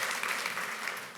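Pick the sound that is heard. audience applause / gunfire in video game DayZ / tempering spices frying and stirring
audience applause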